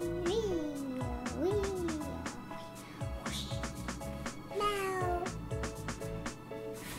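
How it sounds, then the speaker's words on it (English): A cat meows several times in rising, drawn-out calls, close and clear, with faint tinkling and room noise between the cries. "That's a cat."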